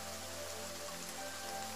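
Steady rain falls in a forest, a dense, even patter that stays constant and fairly soft throughout, with no voices.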